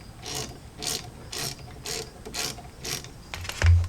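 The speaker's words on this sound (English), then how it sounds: "So this banjo bolt back here is going to be a" A ratchet wrench works a 9/16 banjo bolt loose on a Jeep XJ front brake caliper, giving about seven crisp, evenly spaced ratcheting strokes up close, ending in a heavier clunk.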